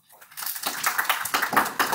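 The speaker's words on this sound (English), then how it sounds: "You may applaud." A crowd applauds at a lecture or presentation, clapping swelling quickly from silence into a steady, close, dense patter that carries on without a break.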